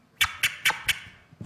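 Four short, sharp forward scratches hit in an even rhythm on a turntable, each a crisp stab followed by a brief gap.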